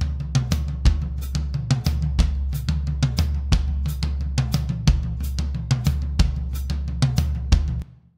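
A drum groove through an SSL-style bus compressor at 4:1 with fast attack, medium release, plays steadily, punchy kicks and snappy hits in a repeating rhythm, moderately loud with no voices, ending abruptly.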